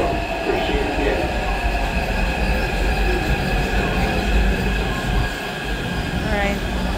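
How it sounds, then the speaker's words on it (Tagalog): A green line metro train rolls loudly into an underground platform, heavy rumbling wheels and clattering carriages filling the station with a steady roar and faint squeal near the end. "Padating na yung train."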